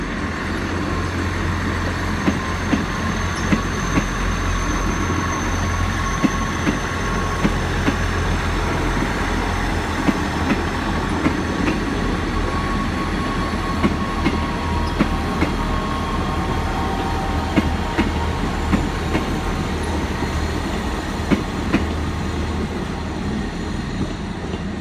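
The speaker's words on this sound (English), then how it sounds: "we've got the South Western Railway service to Waterloo now going out as well" A South Western Railway service to Waterloo pulls out of Exeter St David's station on a Sunday evening, a continuous rolling rumble with regular wheel clicks over the rail joints.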